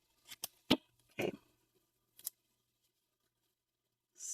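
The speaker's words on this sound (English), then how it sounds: "I need my scissors." Scissors snip through stickers in a few sharp, close cuts, some quick pairs, then a pause before one last softer rustling cut.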